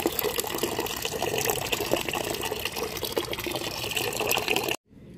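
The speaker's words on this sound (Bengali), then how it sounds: "এখানে জল ভরতে দিয়ে দিয়েছি, প্রায় জল ভর্তি হয়ে যাবে" Water gushes steadily from a tap into a nearly full bucket, a loud, constant splashing rush that stops abruptly near the end.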